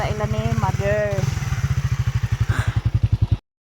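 Motorcycle engine pulsing steadily as the bike is ridden, with a regular low thumping firing rhythm close by and a voice talking over the first part before it cuts off abruptly.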